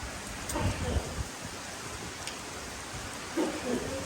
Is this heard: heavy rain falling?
yes